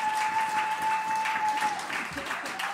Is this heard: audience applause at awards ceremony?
yes